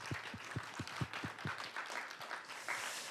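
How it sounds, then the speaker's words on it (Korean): A church congregation claps in encouragement for a youth group, a short run of brisk, fairly faint claps that thins out into a soft murmur. "우리 축복하고 축하하며 우리 격려의 박수."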